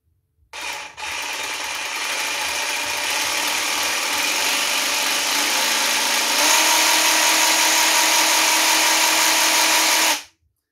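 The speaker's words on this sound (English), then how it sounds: "let's just fit a battery in and see how loud it is" An Evolution R90JGS 18V cordless jigsaw runs alone for about ten seconds, starting abruptly with a loud, steady high-pitched whine and buzz that rises slightly partway through before cutting off sharply.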